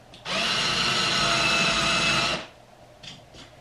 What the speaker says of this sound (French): on perce un trou, le trou de la vis